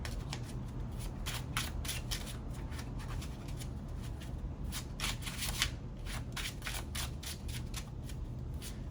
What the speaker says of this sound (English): I've gotten kind of better at shuffling these cards